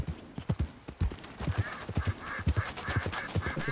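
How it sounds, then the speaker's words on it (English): Horse hooves clip-clop in a steady walking rhythm in a role-playing video game set in Westhaven, with occasional soft whinnies and a faint background hum, no talk. "I heard a horse."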